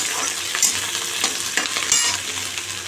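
Onion and capsicum fry in a pan with a steady close sizzle, broken by a few sharp scraping stirs of the spatula over about three seconds.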